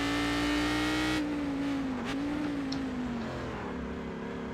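Race car engines in the iRacing sim, a loud sustained engine whine that holds steady, then dips and shifts lower as the car slows, heard close and with no talk.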